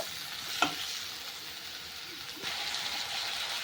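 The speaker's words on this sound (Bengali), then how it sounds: "টমেটোটাকে নেড়ে চেড়ে ভেজে নেব।" Tomatoes frying in a pan with cumin for a small-fish curry, a low steady sizzle with a couple of brief stirring scrapes, close and quiet, no talking.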